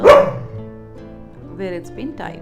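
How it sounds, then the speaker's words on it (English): A dog barks once, loud and close at the start, then quieter yips and whines follow while a person talks over it in the background of a drawing session. "I'm sorry for the dog barking behind."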